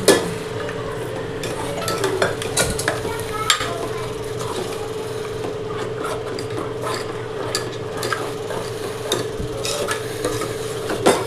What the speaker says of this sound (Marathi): थोडा रस्सा घालते याच्यामध्ये